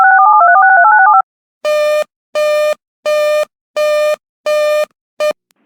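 An emergency alert broadcast for tornado and flash flood warnings opens with a warbling two-tone electronic signal, then six loud, evenly spaced beeps, the last one cut short.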